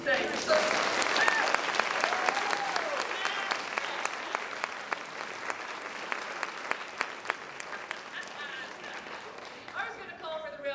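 An audience at a university convocation breaks into sustained applause, a dense wash of clapping that fades slightly over ten seconds, with a few voices and cheers mixed in.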